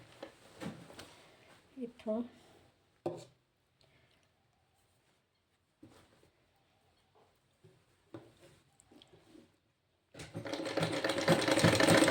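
A sewing machine stitches a sleeve seam on a garment in short bursts between pauses, with a sustained loud run at the end. A person speaks over the earlier part.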